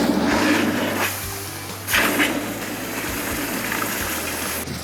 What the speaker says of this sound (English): Now I'm gonna take this and dump it into the water and cool it down a little bit.